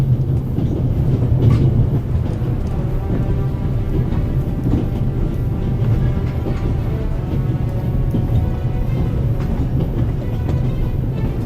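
A moving train in a video game rumbles continuously with a low, heavy roar and faint clickety-clack, steady and loud throughout with no voices.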